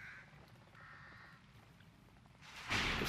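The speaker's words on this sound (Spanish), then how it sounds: "Hay cuervos por ahí." Crows cawing in a forest in The Evil Within, two distant harsh caws early on over quiet ambience, followed by a louder noisy burst near the end.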